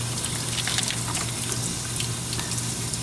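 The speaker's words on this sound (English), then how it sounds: "But we got great water flow here" Water rushes steadily through a drain tube in the floorboard of a Jeep Wrangler YJ, a continuous close gushing flow with a low hum underneath.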